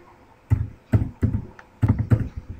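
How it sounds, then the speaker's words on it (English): A Facebook password being typed on a computer keyboard: a handful of close, distinct key clicks in short uneven bursts, separated by brief pauses, with no voices. "So I need to type my Facebook password again"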